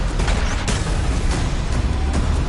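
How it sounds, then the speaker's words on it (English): A huge explosion in the video game DOOM: The Dark Ages, a loud sustained roaring blast with rumbling low end and crackling bursts that fill the whole stretch without any voices. "That little tiny thing caused that huge of an explosion."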